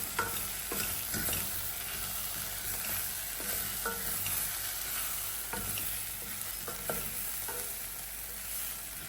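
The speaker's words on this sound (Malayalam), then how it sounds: "ഇനി ഇതിലേക്ക് കാൽ ടീസ്പൂൺ മഞ്ഞൾപ്പൊടിയും കൂടി ചേർത്ത് നന്നായിട്ട് ഇളക്കിയെടുക്കാം" Turmeric powder stirred into breadfruit curry frying in a pan: a soft, steady sizzle with repeated scraping stir strokes at an irregular pace, close by and fairly quiet, with no talking.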